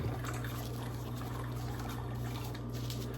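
Hot water pouring steadily into a container holding a homemade tea bag, a continuous close-up stream with a constant trickling wash and no talk.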